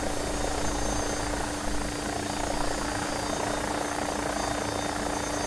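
An AgustaWestland AW109SP helicopter rolls along a runway, its engine and rotor making a loud, steady, continuous drone with a constant whine, heard from inside and with no pauses.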